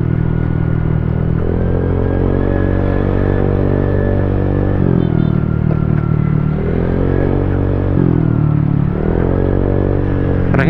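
Motorcycle fitted with a JVT Power Pipe V3 exhaust and an engine remap revs repeatedly, its loud, close engine climbing and dropping in several throttle blips with a steady rumble between them.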